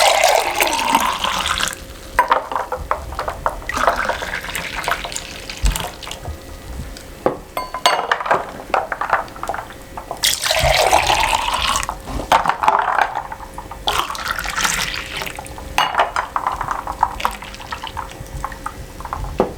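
Homemade tart red cherry juice pours into serving glasses, with close splashing and trickling liquid in several separate pours and brief gaps between them.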